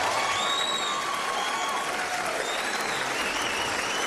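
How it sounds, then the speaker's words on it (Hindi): A studio audience applauds loudly and continuously, dense clapping with a few whistles mixed in, sustained throughout at close range. "बहुत सारी तालियां हमारे इस hero group captain Faheem Khan के लिए"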